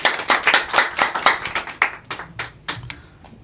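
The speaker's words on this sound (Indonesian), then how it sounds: "Tepuk tangan buat Mas Za dulu dong." A small studio audience claps for a guest on a comedy talk show, a few close, sharp handclaps in a loose irregular rhythm that thin out and stop within about three seconds.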